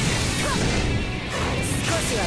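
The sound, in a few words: Shunkō thunder strike attack impact, BLEACH video game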